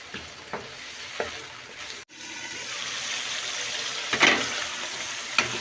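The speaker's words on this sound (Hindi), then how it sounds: "ये 2 सब्ज़ मिर्चें और अदरक का पेस्ट है, ये भी इसके साथ ही डालकर इसको 5 मिनट के लिए अच्छी तरह भूनेंगे" Chickpeas fry in a pan with green chilies and ginger paste for Kabuli pulao, giving a steady close sizzle with a few sharp stirring scrapes and clicks and no talking.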